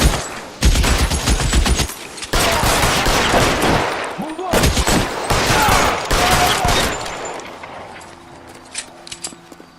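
Heavy gunfire in L.A. Noire, with dense, loud bursts of automatic fire and overlapping shots for most of the stretch, close and sustained, then thinning to a few scattered cracks at the end.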